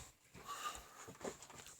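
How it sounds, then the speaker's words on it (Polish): A small dog pants faintly in short, soft breathy bursts close by in a quiet room, with no voices. "To był piesek. Ogonkiem merda."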